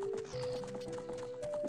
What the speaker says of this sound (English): Is it possible to get trampled by a horse here?